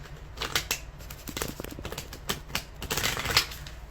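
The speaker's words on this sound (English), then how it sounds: "These cards, when I shuffle," Tarot cards shuffled up close in quick, uneven riffles and flutters, a dense run of crisp papery bursts with no voices.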